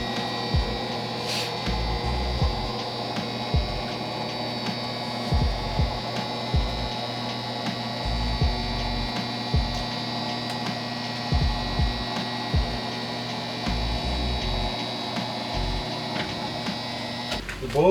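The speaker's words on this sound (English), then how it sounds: "there's a button right here that lowers the TV down into position" A motorized lift lowers the TV inside a 2002 Prevost Featherlite Vantaré H3-45 bus, a steady electric motor hum with a constant whine running throughout, under faint intermittent low thumps.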